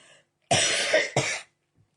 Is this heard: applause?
no